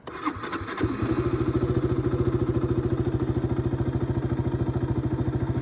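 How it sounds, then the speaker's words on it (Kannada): A KTM RC200 motorcycle engine cranks and catches, then settles into a steady, loud, rhythmic putter that runs close and continuous to the end. "ಸೊ ಇದಾಗಿರುತ್ತೆ ಇಂಜಿನ್ ಸೌಂಡ್."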